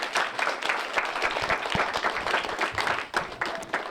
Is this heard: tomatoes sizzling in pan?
no